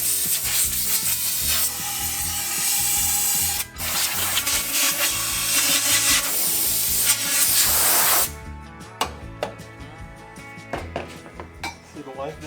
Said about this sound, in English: washing and drying the front fork components after being cleaned in a high-temperature ultrasonic cleaner